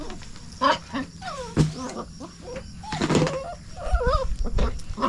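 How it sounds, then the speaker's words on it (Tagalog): Hungry dogs on a small farm whining and whimpering, with rising and wavering high cries, short yelps and some scuffling close by. "Oh, gutom na mga dogs."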